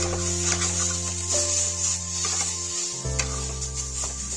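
Dhoka lentil batter, a vegetarian protein dish, is stirred and fried in a pan until sticky. A soft sizzle runs under rubbing, scraping spatula strokes, and steady low tonal hums sit beneath them with no talk.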